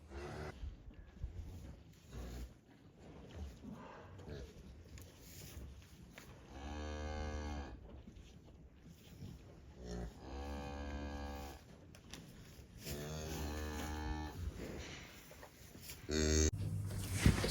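A cow held in a gate during calving gives several long, loud moos at intervals, with snorts and heavy breathing between them.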